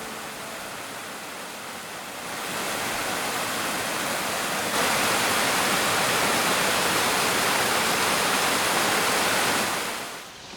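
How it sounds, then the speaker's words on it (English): A powerful waterfall among the water features of the Kassel Wilhelmshöhe mountain park: a dense, continuous roar of falling water that swells louder after a few seconds, holds steady, then eases off at the very end, with no voices. "this waterfall does not always flow quite so strongly"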